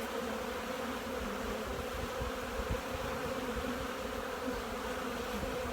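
A steady, dense drone of honey bees buzzing in an open hive colony during a fall brood nest inspection, continuous and close with no talking.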